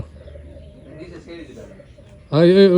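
Pigeons cooing outdoors on a rainy day, a loud close throaty coo rising at the end after a stretch of quieter background, with a person talking.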